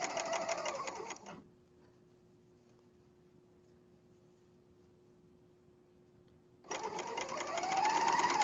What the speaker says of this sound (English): when you want to go to finish these seams, and you're on a serger